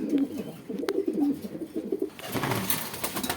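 Pigeons at a pigeon seller's in Gazipur, near Dhaka, give soft, low, throaty coos in short repeated phrases close by, followed by a burst of rustling noise.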